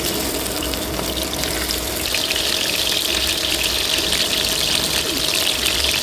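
Loitta (Bombay duck) fish frying in hot oil on medium-low heat, a loud, dense and continuous sizzle that holds steady close by throughout.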